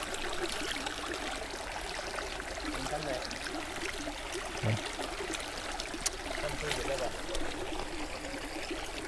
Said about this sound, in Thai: น้ำตกไหลลงมาจากภูเขา